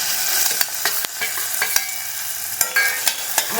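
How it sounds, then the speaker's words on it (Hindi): Potatoes frying and being stirred in hot oil with turmeric, a steady sizzle under repeated sharp scrapes and clinks of a spoon against the pan, close and fairly loud, with no talking. "अब इसमें मैं सबसे पहले आलू डालूंगी।"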